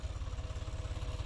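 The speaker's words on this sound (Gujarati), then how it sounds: "જબ્બર મજા આવે છે ટ્રેક્ટર ચલાવવાની." A tractor engine runs on a farm field during groundnut harvesting, giving a close, loud, steady low chugging with a rapid pulsing rhythm that cuts off abruptly at the end.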